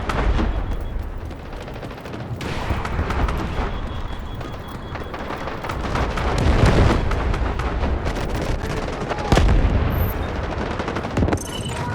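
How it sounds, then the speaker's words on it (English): In the video game Delta Force, loud gunfire and blasts roll over dense battle noise, and a grenade launch adds a sharp report amid continuous, near shooting. "Launching grenade!"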